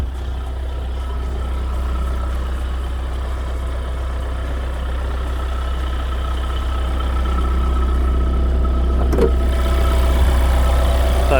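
Hyundai Staria 2.2 turbodiesel idling, heard from inside the cabin as a steady low rumble that holds even throughout, with a brief faint knock near the end and no talking.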